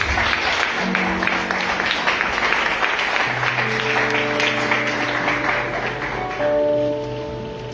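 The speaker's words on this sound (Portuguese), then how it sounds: "dê uma linda salva de palmas ao Senhor Jesus" A church congregation claps steadily in sustained applause during a communion service, while sustained musical tones rise underneath and the clapping gradually thins out.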